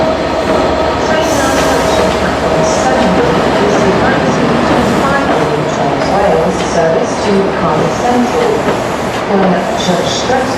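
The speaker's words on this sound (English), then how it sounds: "Here comes the ARRIVA Trains Wales Premier service in 67" A diesel passenger train hauled by a Class 67 locomotive rumbles past close by, a steady loud roar of engine and wheels with faint squeals, lasting throughout.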